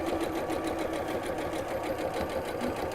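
A sewing machine runs steadily, stitching a fabric bowl around in a circle, its rapid needle rhythm continuous and close for the whole stretch with no talking.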